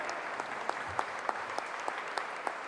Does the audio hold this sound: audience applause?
yes